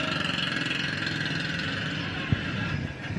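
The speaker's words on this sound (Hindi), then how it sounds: "दूध वाले की मोटरसाइकिल बहुत शोर करती है।" A milkman's noisy motorcycle engine runs with a loud, steady rough drone and a single sharp knock partway through, close by and continuous throughout.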